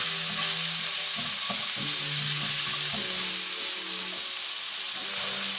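Onions and garlic frying in a pan, a loud constant close sizzle with soft scraping stirs and light clinks running throughout.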